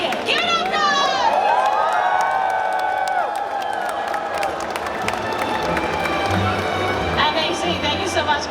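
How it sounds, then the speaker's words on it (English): An audience at the Blizzard World of Warcraft cosplay contest at Gamescom 2025 cheers, whoops and whistles loudly in a large hall, with an amplified host's voice talking over the crowd. "Thanks so much for cheering for everyone."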